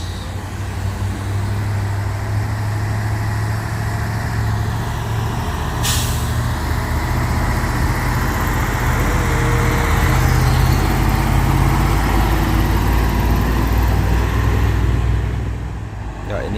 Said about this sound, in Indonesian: ini ada truk oren ambil jalur kanan ya teman-teman